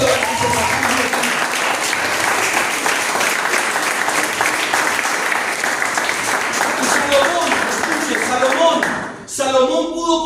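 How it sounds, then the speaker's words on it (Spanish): A church congregation at a Wednesday evening Bible study breaks into loud, sustained applause for about nine seconds, with cheering voices mixed in, then a brief dip before a voice and music-like tones take over at the end. "Den un aplauso a la presencia de Dios."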